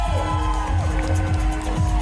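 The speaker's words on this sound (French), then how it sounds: "Je vous demande d'applaudir l'association Tokusatsu, mesdames et messieurs." A crowd at a geek convention stage show cheers and applauds a tokusatsu performing group, a loud continuous wash of voices and whoops with a steady tonal hum beneath.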